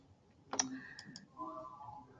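Faint, sparse clicks of a computer mouse, one sharper click followed by two softer ones, heard while selecting a browser extension with a quiet tonal hum afterward.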